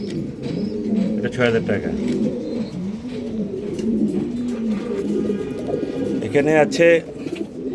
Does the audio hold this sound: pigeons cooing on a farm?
yes